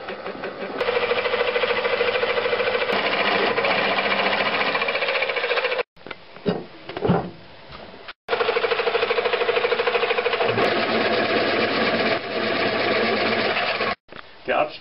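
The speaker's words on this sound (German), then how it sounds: "Nun werden mit dem Zentrierbohrer vorsichtig die Bohrungen markiert." Centre drill on a machine marking holes in a metal block, a loud steady mechanical whir running for several seconds, stopping briefly, then starting again for another long run.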